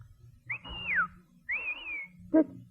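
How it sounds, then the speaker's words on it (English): Two long rising-and-falling whistles in a row, loud and close, followed by a short sharp chirp, over a quiet background murmur. "That was a taxi whistle."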